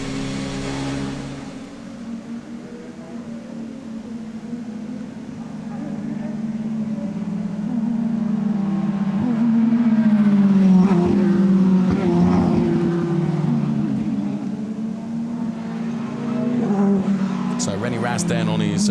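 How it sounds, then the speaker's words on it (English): An Audi DTM race car drives its cool-down lap at the Lausitzring. Its engine drones steadily and then swells at mid-distance, with a commentator talking over it the whole time. "So René Rast then on his cool down lap"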